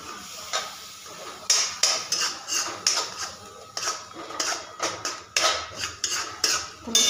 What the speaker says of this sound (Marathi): सगळ्या गोष्टी व्यवस्थित मिक्स करून घ्यायच्या